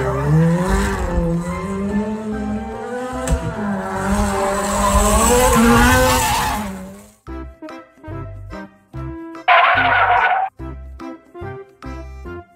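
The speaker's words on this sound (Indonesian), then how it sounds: "Mobil balap." A toy racing car's engine revs in rising, wavering surges, then cuts to a pulsing pattern with a brief, loud tire squeal near the end.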